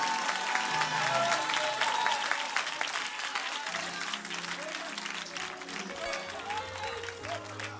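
A church congregation claps at a deliverance service, a crowd of hands applauding loudly at first and tapering off as sustained tones from music or voices carry underneath.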